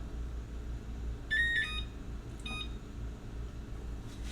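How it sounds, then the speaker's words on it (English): A kitchen stove chirps with a short cluster of high electronic beeps as it is switched off, followed by a fainter second beep, over a low steady room hum. "I'm gonna turn the stove off."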